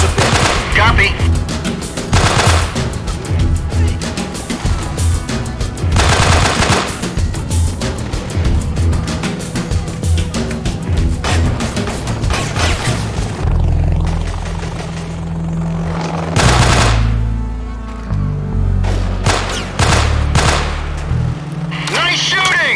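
Gunfire in the video game Delta Force: Black Hawk Down, loud rapid machine-gun bursts and single shots repeating throughout, with helicopter rotor noise and game voices underneath.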